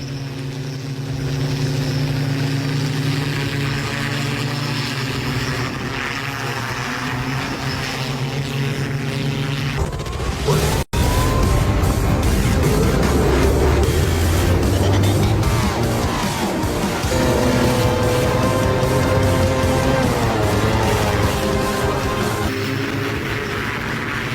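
A police flying hoverbike in flight, a loud, steady propeller drone that is joined midway by a harsher roar with rising and falling pitch, continuous and close with no talking.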